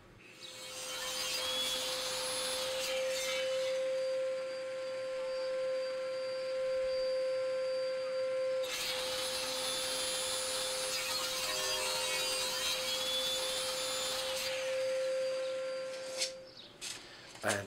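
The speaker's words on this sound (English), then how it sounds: "clamp the corner where I want it onto this sled and then push it through the table saw" Two passes of a table saw cut corner spline slots in wood using a sled jig, each a loud steady whining run with blade tone and cutting rasp, then a brief clatter at the end.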